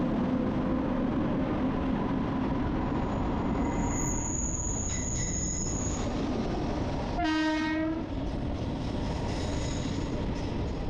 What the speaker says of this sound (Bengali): আমাদের ট্রেন এখন এসে পৌঁছেছে কটক জংশন স্টেশনে